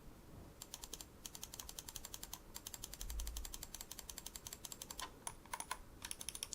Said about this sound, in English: The center mouse wheel is got a very minute notch to it